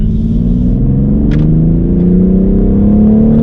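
A BMW X4 M Competition accelerates up a freeway on-ramp while merging. The loud engine drone climbs steadily in pitch as it pulls, with a constant low rumble and a brief click partway through.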